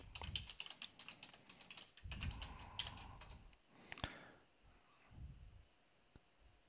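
Quiet, rapid keystrokes on a computer keyboard as a password is entered, a short burst of close clicking followed by a few scattered taps.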